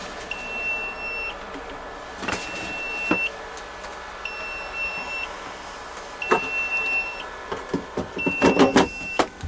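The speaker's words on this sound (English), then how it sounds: "Cancel the alarm, haven't dropped too much temperature" An egg incubator's temperature alarm sounds while quail eggs are handled, giving repeated short high-pitched beeps in regular bursts over faint background clatter and handling noises.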